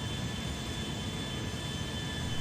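Airbus A330-300 jet engines spooling down in GTA V after shutdown, a steady broadband roar with faint high whine tones, continuous and fairly close with no voices.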